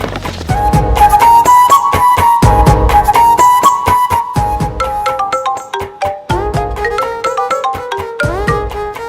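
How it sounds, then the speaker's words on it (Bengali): A loud, melodic phone ringtone plays alone, a repeating tune of bright electronic tones that continues steadily throughout. "এক্ষুনি আমি দীপ্তকে একটা ফোন দিয়ে জানিয়ে দিই"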